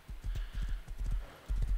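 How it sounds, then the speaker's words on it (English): Horse hooves in the survival video game Rust thud in a fast, steady galloping rhythm, close and loud throughout, with no speech over them. "Let's go, horse."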